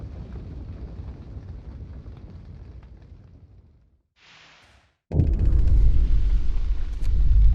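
A low rumbling roar fades to near silence, a brief hiss, then a sudden loud blast of deep booming noise that keeps roaring, as a generator explodes in the video game Frostpunk.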